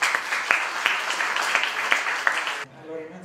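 An audience at an evening talk about out-of-body travel gives a warm round of applause to welcome a speaker, a steady clatter of many hands that stops abruptly, followed by a voice.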